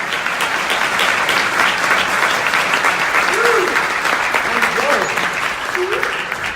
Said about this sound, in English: Let's give him another great big round of applause.